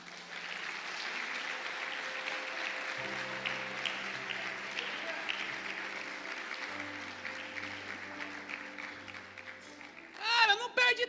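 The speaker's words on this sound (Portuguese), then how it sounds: "Aplauda o Senhor." A church congregation applauds during an evening worship service, a soft sustained patter of clapping under music and a held keyboard tone, with voices rising near the end.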